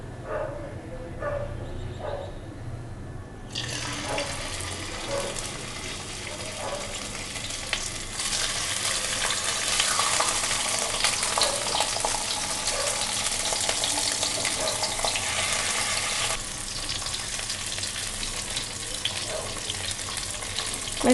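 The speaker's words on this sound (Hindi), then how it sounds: "तेल गर्म होने के बाद मैं एक एक करके इसको तेल में फ्राई कर लूँगी" Hilsa fish pieces frying in hot oil in a non-stick pan for a Bengali sorse ilish dish, starting as a quiet crackle before swelling into a loud, continuous sizzle that holds to the end, with a dog barking faintly early on.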